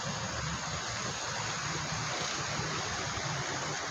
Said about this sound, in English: I love how the mist is coming up behind the waterfall there.